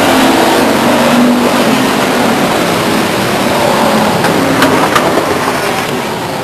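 Eric Drake's number 7 race car pulls away under its own power after colliding with Mike Graham's 93 car on the front stretch at Stockton 99 Speedway, giving a steady, loud engine roar that eases off slightly at the end.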